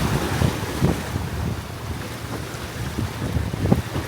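Sailboat crossing the Atlantic from Cape Verde toward Martinique, with wind buffeting the microphone and waves splashing against the hull in irregular surges, sea noise continuous and close with occasional sharper slaps.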